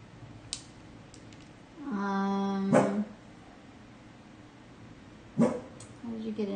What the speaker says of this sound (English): You can boof, but no barking.